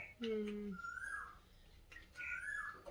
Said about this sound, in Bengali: এ দেখো কোকিল এসছে